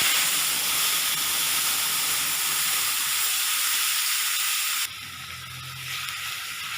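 Onion paste frying in hot oil for a dhaba-style fish curry, a steady loud broadband sizzle and hiss that drops abruptly partway through, as if stirred or lowered, with a low rumble beneath and no talk.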